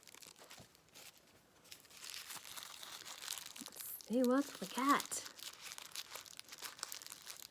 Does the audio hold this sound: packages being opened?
yes